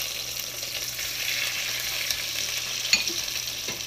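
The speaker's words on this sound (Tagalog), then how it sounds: "parang prito muna konti bago lagay ng sabaw" Meat frying in a pan before broth is added, a steady bright sizzle and crackle with a few stirring knocks, close and continuous with no voices.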